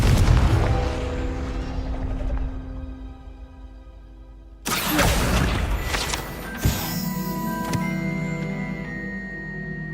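Explosive Confringo spell blasts in the Hogwarts Legacy game, loud broadband bursts hitting sharply at about four and a half seconds and again near six and a half, over a sustained rumbling game soundscape with ringing tonal layers.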